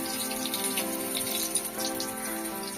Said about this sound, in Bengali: আস্তে করে ব্যাটারটা ঝরিয়ে তেলে দিয়ে দেব।